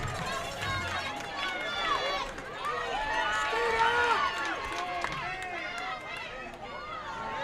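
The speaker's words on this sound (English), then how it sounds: "Crowd coming to life" A crowd at a high school football game, Columbus Titans against Baxter Springs Lions, fills the space with a steady wash of many voices rising and cheering, with talk mixed in throughout.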